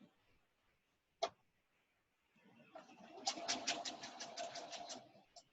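A sewing machine stitches quilt pieces in a quick, even run of needle strokes lasting a few seconds, preceded by a single sharp click in a quiet room.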